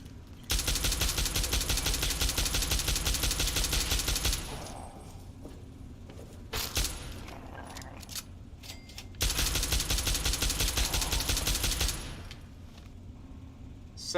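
Two loud, sustained bursts of rapid automatic gunfire from a weapon in Fallout 3, each lasting a few seconds with a quieter gap between them, alone without talk.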